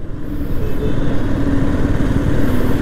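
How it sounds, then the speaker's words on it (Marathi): A motorcycle rides along a road, its loud, steady engine drone continuous and close throughout with no pauses. "आफ्टर लॉंग टाईम बाईकवर आता निघलो 6 महिन्यानंतर"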